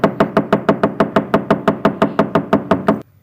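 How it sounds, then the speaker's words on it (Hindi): Someone knocks on a door in a fast, even series of about twenty loud, close raps that stop abruptly. "वो थोड़ी देर तक दरवाज़ा खटखटाता रहा।"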